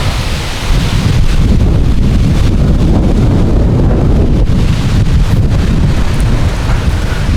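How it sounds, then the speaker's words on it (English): Heavy wind at a beach campground at Holland State Park, Michigan, buffets the microphone with a loud, continuous roaring rumble that barely lets up from start to finish. "it is windy,"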